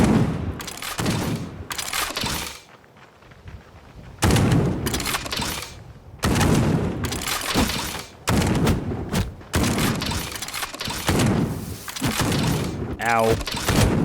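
Gunfire from enemies in Death Trash, a pixel-art game, comes in repeated bursts separated by short pauses, loud and sharp, with a person talking over much of it.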